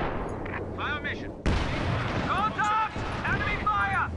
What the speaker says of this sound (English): I need to hit that friggin' pack howitzer. She's just kind of blindly firing at my base.